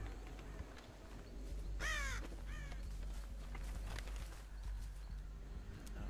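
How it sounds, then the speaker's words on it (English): Crows caw and flap off in the Dead by Daylight video game, a couple of harsh caws near the start followed by fluttering over a low, steady ambient drone. "you did not notice that those crows just took off."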